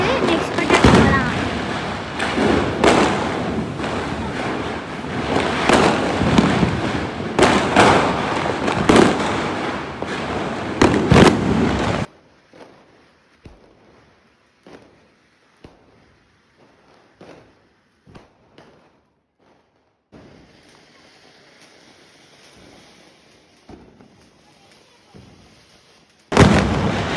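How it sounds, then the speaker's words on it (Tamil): Diwali firecrackers burst in loud, dense, overlapping blasts for about twelve seconds, then scattered sharper pops and crackles follow more sparsely with quieter gaps, ending on a final loud bang. "நெக்ஸ்ட் பட்டாசு போகலாம்"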